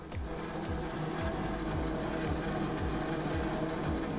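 Background traffic in Assetto Corsa: a steady engine drone with low pitch sweeps repeating every half second or so. The sound is moderately quiet and continuous, with no talking.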